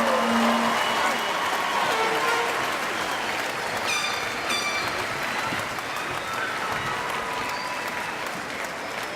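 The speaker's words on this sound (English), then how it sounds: "Please join me in applauding the graduates from the College of Languages and Communication." Applause for graduates of the College of Languages and Communication at a university spring commencement, a large crowd clapping loudly and steadily in a big hall, gradually thinning out, with faint voices underneath.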